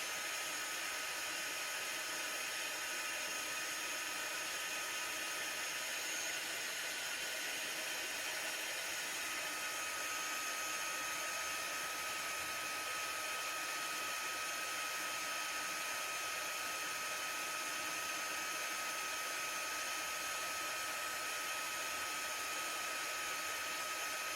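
A heat gun blows steadily while melting embossing powder, a continuous loud whooshing hiss that holds unchanged with no talk.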